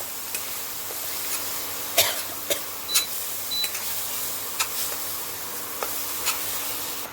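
Ground masala paste frying in a pan for a drumstick curry, a faint steady sizzle with scattered crackles and sharp pops spread across the clip, with no talking.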